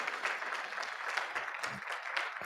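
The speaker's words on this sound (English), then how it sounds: "Can you please give him a round of applause, please," Steady applause from a university convocation audience at a public lecture, a dense even patter of many hands clapping throughout without pause.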